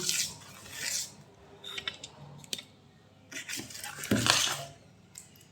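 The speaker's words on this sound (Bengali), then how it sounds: "ক্ষীর গুড় সব ভালো করে একটা হাতার সাহায্যে মিশিয়ে নিচ্ছি" A ladle stirs and mixes nabanna with kheer and jaggery, giving soft scraping and clinking bursts with sticky squelches that come in uneven rhythm, close up and moderately quiet, with no talking.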